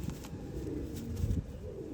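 Blue-checkered pigeons in a loft give soft, low cooing close by, a brief throaty call with no talking.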